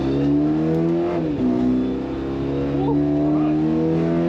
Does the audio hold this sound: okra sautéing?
no